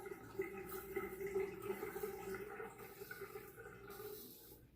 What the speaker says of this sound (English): Let the water out of the sink for now